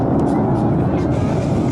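Military jets of the Requin-Mike patrol pass at the AirLegend 2023 airshow, a loud, steady roaring rumble that stays constant through the short moment while an announcer talks over it.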